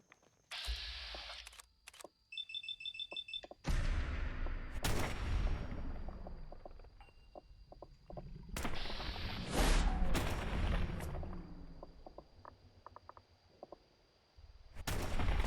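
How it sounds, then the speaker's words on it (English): Bursts of gunfire in the game Fallout 4 ring out in several rapid volleys, with sharp single shots and clicks between louder clusters. "We have gunfire."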